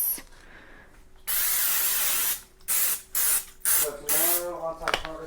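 Cooking spray misted into a casserole dish in a home kitchen, a long hiss followed by several shorter bursts, close up, with a voice speaking between and after the sprays.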